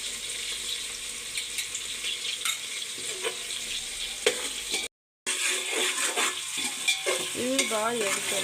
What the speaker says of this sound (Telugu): ఇది బాగా వేగుతుంది.